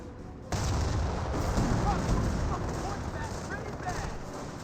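Rifle squads trade fire in a Company of Heroes battle, a steady stream of distant rifle shots and booms crackling over a constant rumbling battlefield bed after an abrupt start.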